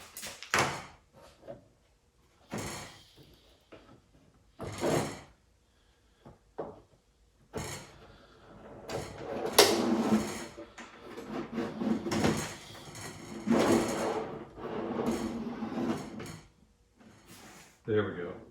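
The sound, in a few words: drawer insert sliding in on drawer slides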